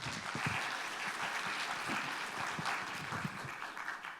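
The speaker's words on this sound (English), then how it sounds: "Let's welcome him with a round of applause." A summit audience applauds to welcome a guest innovator to the stage: a full round of steady, fairly loud clapping from many hands, sustained and fading slightly toward the end.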